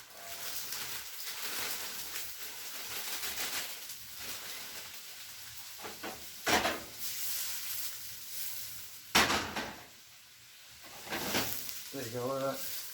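Onions dropped into a hot, oiled pan for a vegan curry sizzle and crackle steadily, with louder bursts as they are stirred and moved around, while a person talks over the cooking.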